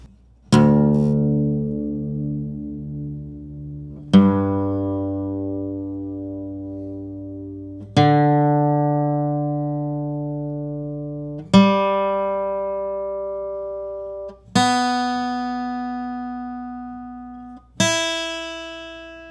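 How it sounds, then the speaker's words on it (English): Slide guitar in a hybrid tuning, open G on the lower strings and standard on the higher ones: six separate plucked notes or chords spaced a few seconds apart, each ringing clearly and fading slowly, played alone. "it's a hybrid between open G tuning and standard tuning"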